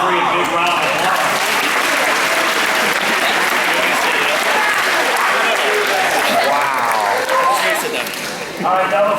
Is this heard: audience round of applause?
yes